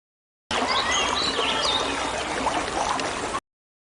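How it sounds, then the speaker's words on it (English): A game insect's chirp, made by rubbing rough, file-like wings together, sounds as a steady, bright, dense trill that holds at an even level for about three seconds before cutting off abruptly, with no voices. "My wings have special places that are rough like files. When I rub them together, they vibrate. That makes the sound of my chirp."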